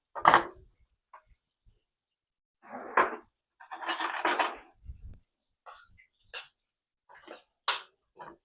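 Spanish rice being scooped and added to a dish of leftover street enchiladas, heard as scattered scraping and rubbing of a utensil against the dish, short clinks and brushing sounds separated by silences.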